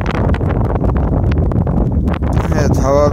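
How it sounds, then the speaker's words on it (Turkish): Outdoor wind buffeting the microphone, a dense steady low rumble throughout, with someone speaking Turkish over it near the end. "hava biraz rüzgarlı"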